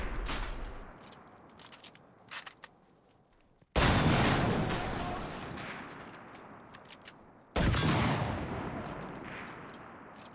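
Anti-tank rifle shots hit a Daimler in a video game's practice mode. Three sharp, loud blasts come well apart, each trailing off in a long metallic decay, with quiet rattles and clinks between them.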